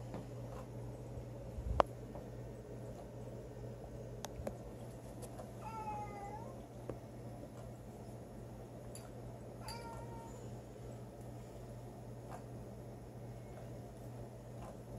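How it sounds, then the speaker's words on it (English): A house cat meows twice in the background, faint harmonic calls spaced a few seconds apart over a steady low hum and room noise, with a couple of soft clicks. "the cat's talking in the background"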